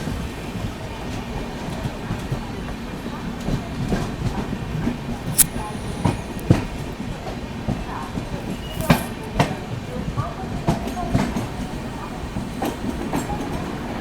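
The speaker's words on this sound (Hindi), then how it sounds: "तिरुवनंतपुरम लोकमान्य तिलक टर्मिनस एक्सप्रेस आती हुई" The Thiruvananthapuram–Lokmanya Tilak Terminus express train rolls into a station with a steady rumble and scattered wheel clicks and squeaks, a few sharp metallic taps rising over the noise.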